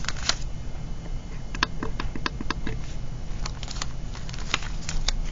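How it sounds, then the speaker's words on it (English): Tape pulled off in short crackling strips and pressed down onto a paper planning sheet, a cluster of sharp ticks and rips over about five seconds, close and quiet with a low hum underneath. "you're going to take a piece of tape and tape that down"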